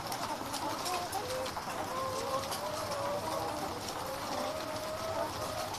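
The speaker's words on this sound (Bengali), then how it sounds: "যখনই মুরগিগুলোর খাবার দেই তখন খুবই ভালো লাগে" Farm chickens cluck and call while being fed, a soft continuous chorus of several birds at moderate distance over a steady background hum.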